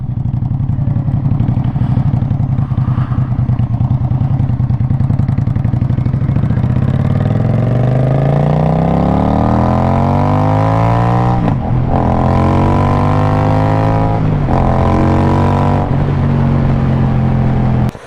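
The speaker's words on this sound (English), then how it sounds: "the engine is very loud. That exhaust is loud." A 2025 Indian Scout bobber motorcycle engine roars loudly and steadily up close, its deep exhaust note rising in pitch as it revs, with brief dips between gear changes.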